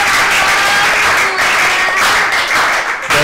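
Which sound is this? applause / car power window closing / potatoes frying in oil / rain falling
applause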